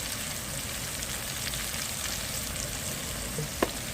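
Anchovies fry in a pan outdoors in a garden, giving a steady dense sizzle close by with a brief sharp tick near the end and no talking.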